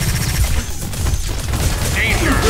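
Iron Man's proton cannon super in the Marvel vs Capcom fighting game fires as a loud, sustained blast of dense, crackling energy roaring throughout, with a bright rising tone near the end.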